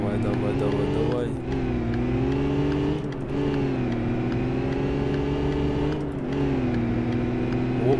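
A Honda Civic Type R accelerating hard in City Car Driving: a loud, steady engine drone climbs in pitch, with short dips at each gear change as it pulls through the gears.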